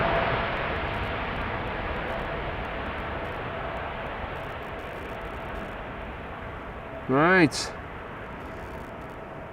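China Southern Cargo Boeing 777 freighter departing Schiphol's Polderbaan, bound for Shanghai: a broad, steady distant jet rumble that slowly fades, broken by a brief spoken word partway through.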